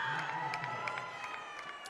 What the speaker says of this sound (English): Little cheering section.